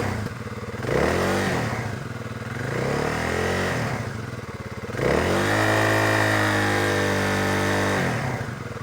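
Kawasaki KLX 300 dirt bike on its stock exhaust after a cold start, idling with a steady thump and then blipped through several quick revs that rise and fall, loud and close with no talk.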